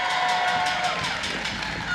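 A large audience at a White House event applauds and cheers, with dense clapping and crowd noise filling the space steadily.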